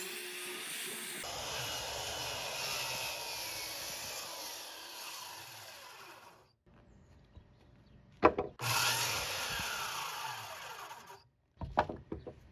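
A saw cuts through wood boards for an above-ground pool deck in two long, loud passes separated by a pause, followed by a couple of short sharp clatters near the end.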